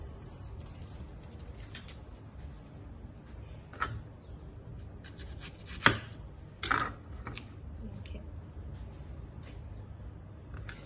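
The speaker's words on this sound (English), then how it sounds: "So now I just peel it, and we also finely chopped it" A knife finely chopping a peeled onion on a board, quiet scattered taps with a few sharper knocks, close but faint, no talk over it.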